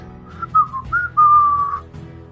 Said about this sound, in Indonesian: Wiro Sableng bersiul dan tertawa gelak-gelak.